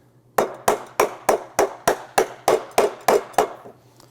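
A hammer drives a leg into a Griot's Garage Ultimate Detailing Cart until it seats, eleven sharp, evenly spaced strikes that ring close and clear over a faint steady hum, with no talking.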